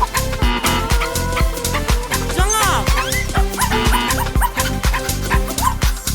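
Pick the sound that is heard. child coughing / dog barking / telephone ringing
dog barking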